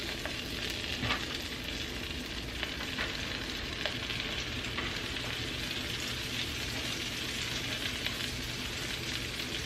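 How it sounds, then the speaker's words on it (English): Rolled Swedish meatballs sizzle in a hot skillet, a constant bright crackle and spatter with small pops scattered through it, close and steady, and no talking over it. "we're going to take our rolled meatballs and we're going to get them in the pan"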